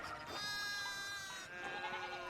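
A sheep bleats in the medieval adventure game Pentiment, loud and near: one long, wavering bleat, followed by a shorter bleat that starts up right after it, with no speech.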